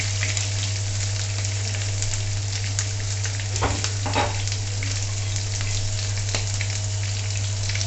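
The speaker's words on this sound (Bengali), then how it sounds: "দিয়ে এটা খুব ভালো করে প্রথমে ভেজে নিতে হবে" Garlic cloves fry in hot oil in a pan, a loud, continuous close sizzle with occasional stirring scrapes and no talking.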